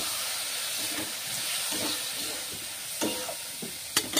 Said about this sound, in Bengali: তারপর আমি এখানে দিয়ে দিচ্ছি মুসুরি ভিজিয়ে রেখেছিলাম সেটাকে